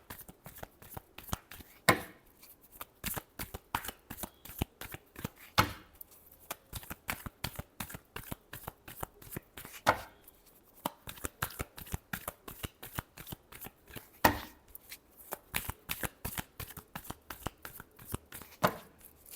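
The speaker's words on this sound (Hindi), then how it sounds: "last shuffle" Tarot cards are shuffled by hand in a steady run of quick, close riffling slaps and soft clicks, with brief pauses between bursts, and no one talks over it.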